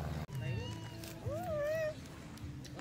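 A cat meows once in a drawn-out, rising call amid the chatter and background voices of a street food area at Silliman Beach, Dumaguete.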